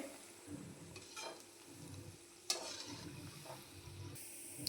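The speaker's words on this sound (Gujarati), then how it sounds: "જુઓ તમે સરસ તળાય છે" Steady sizzling of millet and fenugreek vada frying in hot oil, with occasional stirring scrapes and a louder crackle partway through.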